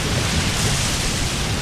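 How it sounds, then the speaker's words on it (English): Heavy rain pours down in a thunderstorm during flash flooding in Mecca, a dense, steady roar of water with no breaks. "the unprecedented heavy rainfall in Mecca, causing severe flooding and disrupting traffic"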